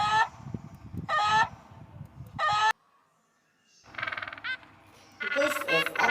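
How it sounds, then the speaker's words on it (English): A rooster crows in short, bright bursts that repeat in quick succession, with fowl-like calls after a brief silence, in a cartoon for children, close and fairly loud. "This is a rooster. A cock. A rooster."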